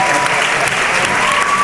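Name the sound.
audience applause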